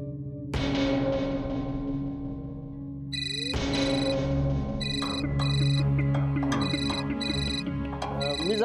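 A mobile phone ringtone plays in a Marathi TV serial scene, a bright repeating electronic melody that starts, pauses briefly, then rings again more insistently, loud and close.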